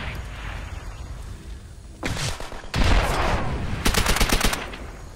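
MP40 submachine gun fire in World at War on the Courtyard map, rapid bursts of close automatic shots cutting in after a quiet stretch, with a second dense volley near the end.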